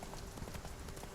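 The horse Roach galloping in The Witcher 3, a quick rhythmic clip-clop of hooves, steady and moderately near over the brief moment, with no talking.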